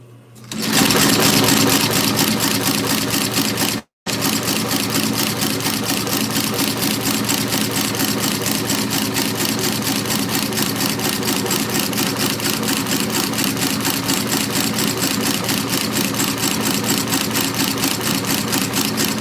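A sewing machine threaded with bobbin thread runs loud and steady for nearly twenty seconds, its rapid stitching hum broken only by one brief stop near the start.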